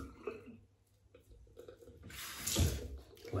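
Running water from a tap rinses the handle of an orange and chrome Edwin Jagger razor, a soft, uneven splashing that swells near the end, fairly faint and close.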